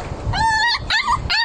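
Small puppies in a shelter enclosure yelp and whimper in three quick, close, high-pitched cries.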